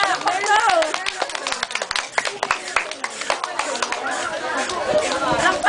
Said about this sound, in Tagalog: Palakpakan natin siya.